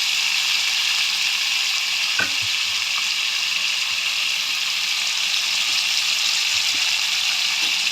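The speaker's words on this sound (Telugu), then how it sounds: "ముందుగా మటన్ అయితే ఫ్రై చేసుకుంటున్నాను" Dried mutton pieces fry in hot oil with a loud, continuous hiss and crackle, up close, with a brief clatter early on.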